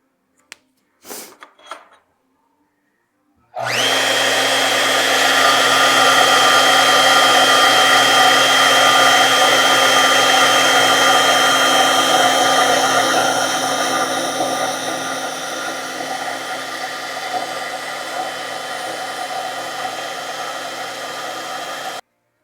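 Power tool running continuously to cut holes in an aluminum plate for a 1955 Chevy hydroboost brake booster install, starting after a few clicks with a loud steady high-pitched whir that eases slightly toward the end.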